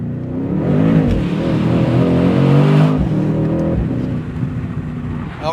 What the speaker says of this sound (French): si j'accélère plus c'est sûr et certain les roues vont patiner